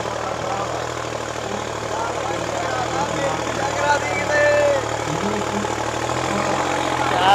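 A New Holland 3630 tractor engine labours under load in a tractor tug of war, a steady loud mid-pitched drone with a slight rise midway, nearby and continuous.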